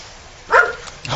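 A Dutch Shepherd or poodle mix dog lets out one short bark followed by a softer second yip, close by and brief.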